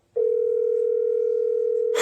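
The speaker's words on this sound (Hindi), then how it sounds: "ये जैसे ही मैंने इस एक्सटेंशन को कॉल किया, ये आपका कॉल जाने लग गया।" A ringback tone from calling an extension on an IP PBX phone system: one continuous steady electronic tone heard close and alone, ending abruptly in a burst of noise.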